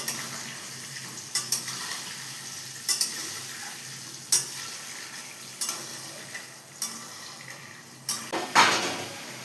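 Potatoes fry in a pan for a chicken curry, a low steady sizzle punctuated by sharp metallic scrapes and clinks of a spatula stirring at irregular intervals, close up and without talk.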